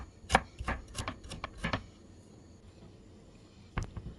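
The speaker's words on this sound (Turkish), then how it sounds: "Verev olacak şekilde öncelikle doğruyorum." Several crisp knife chops against a cutting board in quick succession, a pause, then two more chops, cutting vegetables into sticks and small cubes for soup; close and fairly quiet.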